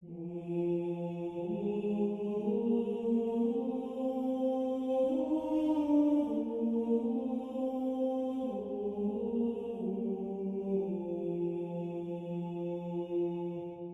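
A smooth sampled choir from the Cinesamples Voices of War library sings sustained legato oo and ah vowels, chords shifting slowly from one to the next, soft and continuous with no speech.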